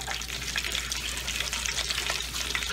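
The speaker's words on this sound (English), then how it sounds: "Oh, I hear the oil bubbling." Freshly caught fish frying in hot oil with garlic makes a close, steady bubbling sizzle with small popping crackles throughout.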